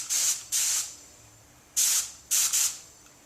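Short bursts of Cerakote H series heat-cure coating sprayed from a spray gun hiss close by, four quick sprays with pauses between them, the last two nearly back to back, and no one speaks.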